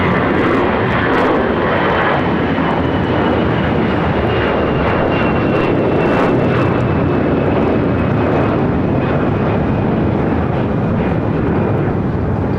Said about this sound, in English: This is Air Canada 553 taking off to Vancouver on an A321